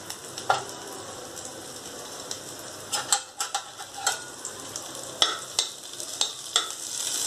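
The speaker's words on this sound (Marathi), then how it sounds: "हे छान फ्राय होऊ द्यायचं आहे" Jowar grains crackle and sizzle in hot tempering with chillies, with a spoon scraping and stirring the pan in repeated sharp clicks over a steady frying hiss.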